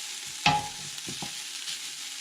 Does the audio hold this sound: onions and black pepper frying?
yes